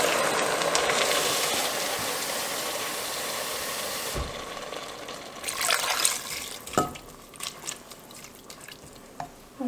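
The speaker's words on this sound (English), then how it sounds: "I'm going to add some water just to cover" Water pours steadily into a pot of beef and leeks for soup for about four seconds, then stops. Scattered drips and small splashes follow, close by and with no talking.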